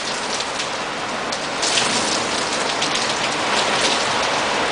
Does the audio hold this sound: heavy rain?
yes